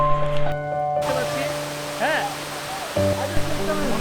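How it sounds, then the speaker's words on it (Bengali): A secluded waterfall on the Komoldoho trail in Mirsharai, Chittagong, gives a continuous broad rushing roar, layered under sustained music tones and a brief voice-like sound. "মিরসুর রায়ের সবচেয়ে নির্জন সবচেয়ে নিখুঁত জলপ্রপাত"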